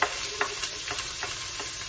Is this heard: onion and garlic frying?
yes